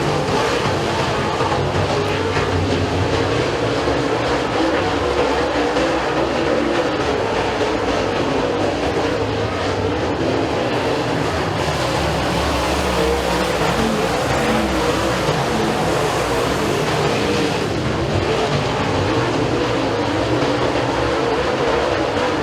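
Race cars in a heat at Eriez Speedway roar continuously as a loud, dense engine drone that holds steady without a break for the whole stretch.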